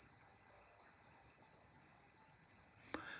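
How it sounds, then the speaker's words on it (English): Crickets chirp at night in a quiet rural setting, a steady high pulsing trill that carries on without a break, with one brief sharp tap near the end and no talking. "Just crickets."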